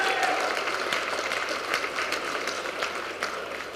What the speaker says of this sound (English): Would you mind giving Judge Ken Wright a great round of applause?